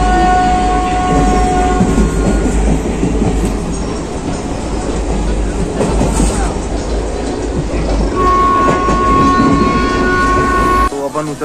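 Train rolling along the rails on a journey bound for Ujjain, a steady broadband rumble with faint clatter throughout and a sustained horn-like tone near the end, continuous and fairly loud.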